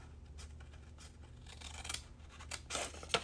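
Quiet snipping as scissors cut off a corner tab for mitering, a few soft cuts and rubbing sounds close by, with the clearest cuts near the end.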